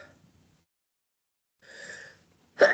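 A single short, sharp sneeze bursts out near the end after a brief intake of breath, in a quiet room during an algebraic geometry reading session.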